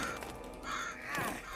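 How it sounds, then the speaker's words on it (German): Crows cawing in Middle-earth: Shadow of Mordor, a few harsh caws at moderate distance over a low ambient background, no talking. "Diese Vögel zerfressen mich schon genug."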